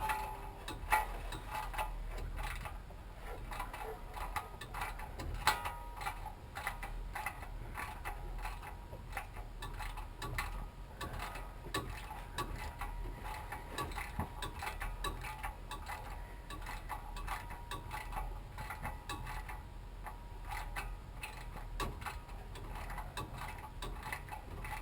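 Steady mechanical ticking and clicking runs through the whole stretch, a ratchet working 15mm starter bolts loose on a 454 big-block Chevrolet, moderately close with no voices over it.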